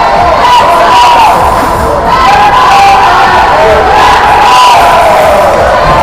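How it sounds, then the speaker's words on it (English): Parents in the stands cheer after a goal at a youth hockey game, a loud sustained crowd roar with whoops and shouts carrying steadily throughout. "I'll let the parents cheer for themselves."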